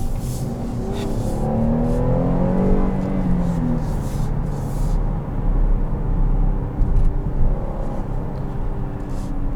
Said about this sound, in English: now it's in full engine brake mode, so it'll just start downshifting to help slow the vehicle down